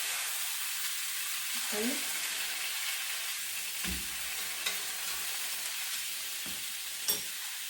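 Sliced pork belly sizzles steadily in a hot pan, a constant bright hiss, with occasional stirring clicks and a brief spoken word.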